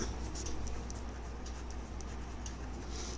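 Writing on a board during a maths lesson, faint scratchy strokes and light taps scattered over a steady background hiss, close but quiet with no talking.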